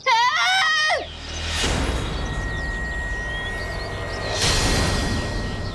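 A woman's shrill, wavering scream cuts through for about a second, followed by rumbling, whooshing noise and loud dramatic bursts.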